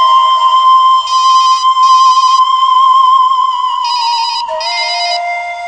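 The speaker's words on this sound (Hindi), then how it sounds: "किसका फोन आया?" A loud electronic phone ringtone plays alone, a steady high tone overlaid with repeating bursts of brighter warbling beeps.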